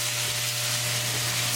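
Lamb meat frying with spices and tadka in a pan, a steady bright sizzle with a constant low hum beneath, close and even throughout with no talk.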